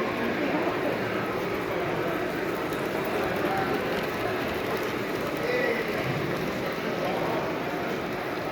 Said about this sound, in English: Oh, here's a train coming.